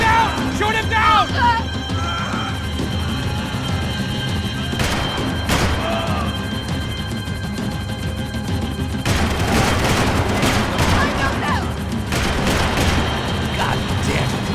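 Gunfire in Max Payne 3 rattles through an intense action scene, with sharp shots and booming crashes mixed with shouting voices and busy game effects.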